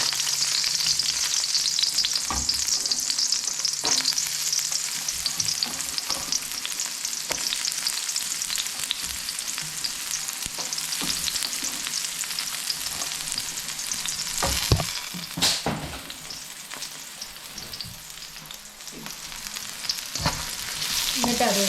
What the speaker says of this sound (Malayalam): എണ്ണ ചൂടാക്കി ഇതിനകത്തേക്ക് നമ്മൾ അരിഞ്ഞ് വെച്ചിരിക്കുന്ന നമ്മുടെ ഷാലറ്റില്ലേ അതിനിട്ട് കൊടുക്കണം